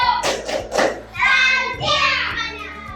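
Children in a primary school classroom perform a rhythmic clapping chant, a few sharp claps near the start followed by sung chanting voices in a steady beat.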